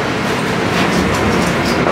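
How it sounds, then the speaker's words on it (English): Steady loud rumble and rattle of a moving train car heard from inside the carriage on a Chicago train ride, continuous throughout with no talking. "We're on the train, everyone."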